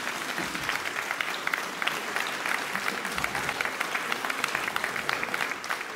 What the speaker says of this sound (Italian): vi chiedo un applauso per dare il benvenuto al Presidente Marsilio.